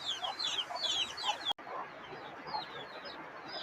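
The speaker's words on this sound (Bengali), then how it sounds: "এদিকে আমাদের মুরগির ছানাগুলো কেমন করতেছে, চিল্লাচিল্লি করতেছে মুরগির ছানারা।" Chicken chicks cheep loudly and continuously in a dense, high-pitched chorus, with steady rain hissing underneath throughout and a brief dropout midway.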